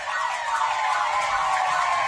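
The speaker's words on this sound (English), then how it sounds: "Any tick, you'll hear the siren." A full-time siren sounds at a men's open tag rugby World Cup match between Great Britain and Greece in 2018. It is one steady, sustained electronic tone that holds for the whole stretch at a constant level, with no talk.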